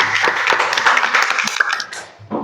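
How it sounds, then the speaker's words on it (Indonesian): A short burst of applause for Amel, with several hands clapping in a quick, uneven patter at close range, fading briefly before a final clap or two. "Ayo tepuk tangan dulu buat Amel, betul tidak?"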